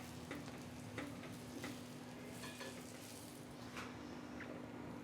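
Naan brushed with ghee cooks on a hot pan, a soft sizzle running underneath as scattered light taps and scrapes of pressing and flipping sound up close, all fairly quiet and without speech.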